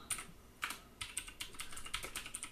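Keys clatter on a computer keyboard as a terminal update command is typed on an Ubuntu 19.04 desktop, in quick bursts of clicks with short pauses, close and fairly quiet.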